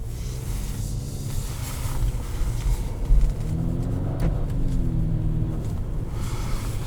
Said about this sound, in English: Two-liter inline four. Variable compression, turbocharged motor, made it to a CVT transmission.